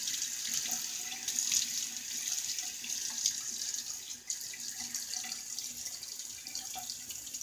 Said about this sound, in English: And so let me wet the face.